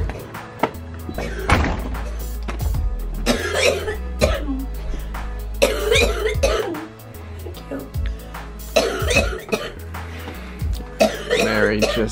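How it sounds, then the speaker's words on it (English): Repeated coughing fits, harsh and fairly close, break out over a low, steady background rumble. "much coughing ensued"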